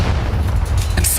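A grenade blast in Call of Duty esports play lands as a loud, heavy boom with a rumbling low-end wash, filling the short moment without any voices.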